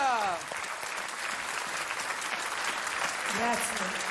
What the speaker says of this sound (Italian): Un grande applauso a Dina Modia